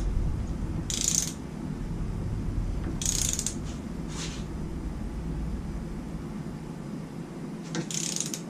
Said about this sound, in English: So I've got my trusty dusty imported torque wrench.